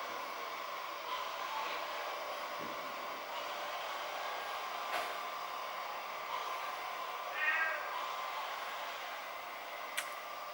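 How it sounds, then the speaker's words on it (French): A house cat meows softly once or twice in a quiet indoor room, faint and brief against a steady low hiss. "J'ai mon chat qui miaule, je suis désolée"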